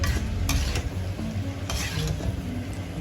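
Okra is stirred into an onion-tomato masala in a sizzling pan, with steady frying hiss and repeated scraping and clinking of a spoon against the pan, close and continuous without talk.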